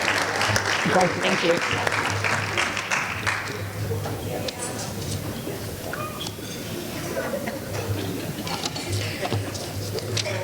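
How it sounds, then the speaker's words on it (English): Audience applause at an awards dinner, a dense clapping wash from many hands, loudest at the start and then thinning to scattered claps, with someone briefly speaking over it and a steady low hum underneath. "Let's give them another big round of applause."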